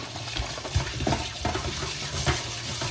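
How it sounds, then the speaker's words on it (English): Tap water runs steadily into a pot of rice being washed in a home kitchen, a continuous splashing rush with a few light knocks and stirring sounds. "First of all, I'm gonna wash the rice."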